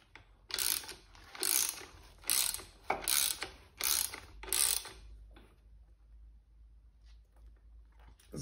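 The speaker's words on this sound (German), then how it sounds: "Und einfach bis zum Anschlag anziehen." A ratchet tightens a bolt during a shock absorber change on a Nissan Qashqai, giving six loud bursts of rapid clicking at a steady rhythm, close up, before the work falls quiet.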